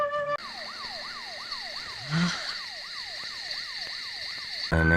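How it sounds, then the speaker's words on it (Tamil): An ambulance siren wails in a rapid repeating up-and-down sweep, steady and fairly loud, with a brief whooshing burst partway through. "ஆம்புலன்ஸ்"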